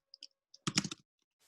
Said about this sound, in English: So I'm typing source env/bin/activate.